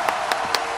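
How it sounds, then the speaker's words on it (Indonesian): Short bursts of applause, four quick sharp claps evenly spaced and fairly faint, with no talking. "Kasih aplaus, guys. Kita kasih aplaus."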